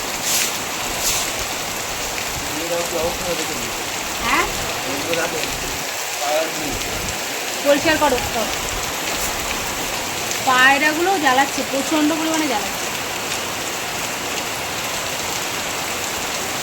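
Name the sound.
rain falling on a balcony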